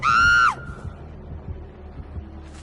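A video game character's scream, a loud harmonic wail that holds for about half a second and then drops off, followed by a low rumbling game background.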